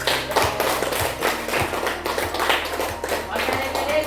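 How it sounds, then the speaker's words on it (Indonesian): An audience of students claps for group 3 in a classroom, giving a steady, moderately loud patter of many hands across the whole stretch. "beri aplaus dulu untuk kelompok 3"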